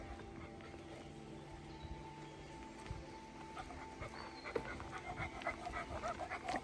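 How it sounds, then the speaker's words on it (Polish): A dog pants steadily as it trots ahead along an outdoor walking path around Linacre Reservoirs, its breathing close and moderately loud over soft footsteps and ambient outdoor noise, with no talking. "Pies próbuje tutaj wyprzedzić,"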